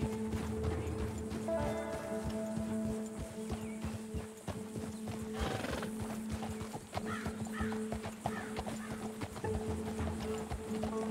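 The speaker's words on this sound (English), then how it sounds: "Have you ever ridden a horse before" A horse in the Red Dead Redemption 2 video game moves at pace with rapid, repeated hoofbeats under background music and ambient tones, with a brief snort or whinny partway through.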